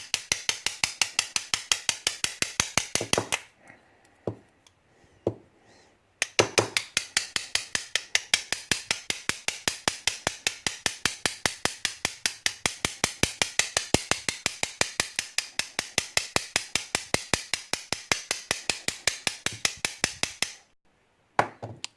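A fast, relentless series of sharp metallic taps from a Sparrows bump hammer striking a bump key in a lock, with two brief pauses, close and loud.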